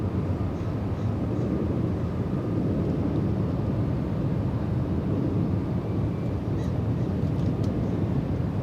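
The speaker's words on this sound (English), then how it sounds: "I can still hear the reverse thrust from this far away." Boeing 777 reverse thrust roaring after touchdown at LAX, heard from far off as a steady, broad rumbling roar that holds level throughout, with no talking.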